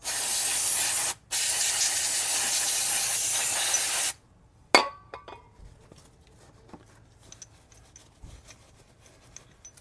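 Aerosol brake cleaner sprayed during a brake pad change on a Lexus LX570 / Land Cruiser: two loud, steady hissing blasts with a short break between, followed by dripping, light clinks and quiet handling noises.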